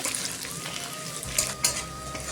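Potatoes with onion and garlic frying in a pan give a steady hiss of sizzling, with a couple of brief louder scrapes or stirs near the end and no talking.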